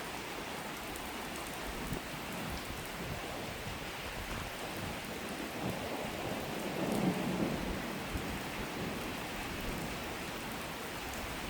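Heavy rain pours steadily during a thunderstorm with wind and hail in Isère, France, with a low rumble of thunder swelling near the middle before easing back into the constant downpour.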